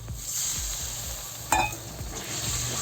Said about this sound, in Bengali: অল্প একটু জল দিয়ে আর একটু কষাবো